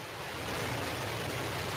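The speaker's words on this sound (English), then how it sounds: "We have ignition of our BE-3 engine." Blue Origin New Shepard rocket's BE-3 engine igniting at launch, heard as a steady, loud, broadband roar like heavy surf or wind that holds for the full length without any talk.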